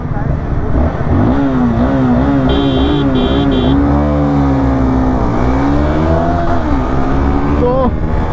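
Honda CBR 250R and Pulsar NS400Z motorcycles roar loudly in a drag race, engine whine climbing in pitch through gear changes, close by, with voices talking over it.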